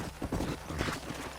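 Horse hooves in the Western video game Red Dead Redemption, a quick clip-clop of hooves on dirt, moderately close with a soft uneven rhythm over a low rumbling background.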